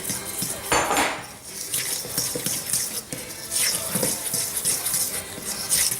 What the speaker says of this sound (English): And I use a fork to try and squash any of those lumps